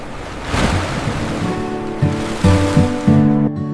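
Stormy sea waves surge and crash, a loud continuous roar of surf with a low, steady musical drone running beneath and swelling in pulses.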